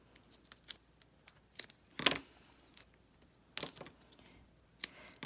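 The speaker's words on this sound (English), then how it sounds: "I'm going to use my scissors to just cut some pieces" Scissors snip through 3D foam tape in a handful of short, crisp cuts. The cuts come at irregular intervals and sound close and quiet, with nothing else in the background.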